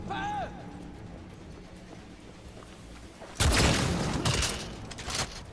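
Gunfire in the first-person shooter video game Cyberpunk 2077, a sudden loud burst of rapid shots about midway through that rings out for over a second, then a few quieter follow-up cracks.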